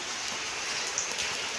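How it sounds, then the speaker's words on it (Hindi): Steady heavy rain patters close by, a dense hiss of drops striking a phone, with no voices. "फोन के ऊपर भी बारिश गिर रही है।"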